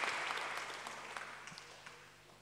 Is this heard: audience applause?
yes